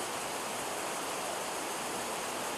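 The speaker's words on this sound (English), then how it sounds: "The Iguazu Falls in the heart of South America." Iguazu Falls in South America, a waterfall heard as a dense, unbroken broadband roar, loud and steady throughout with no voices.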